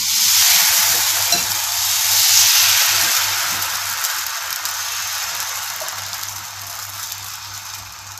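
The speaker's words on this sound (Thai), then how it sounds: "หยอดแป้งลงไปให้เต็มกระทะนะคะ" Thin batter for a Thai coconut dessert is poured into a wok wiped with rice bran oil, giving a loud, steady sizzle and hiss that gradually softens, with faint clinks of a utensil.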